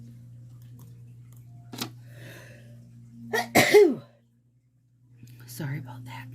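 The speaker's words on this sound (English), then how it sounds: "I have a sneeze coming," One loud, close sneeze bursts out in a quiet room after a soft whisper and a small breathy sound, followed by a brief silence and then quiet speech resuming.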